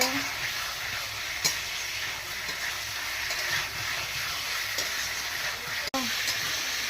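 Chicken meat curry braising (kosha) in a pan gives a steady, close sizzle with stirring scrapes throughout, a few sharp clinks standing out, and no talk over it.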